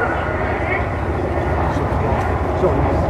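Low pass of a B-17 Flying Fortress bomber at the Duxford Flying Legends airshow, a steady, loud broadband piston-engine roar filling the whole stretch with a commentator talking over it.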